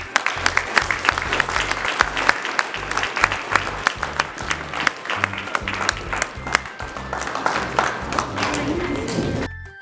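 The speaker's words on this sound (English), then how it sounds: "All right, huge round of applause." Loud, close applause at a school awards ceremony, brisk clapping with a few sharp claps and some cheering throughout, ending abruptly.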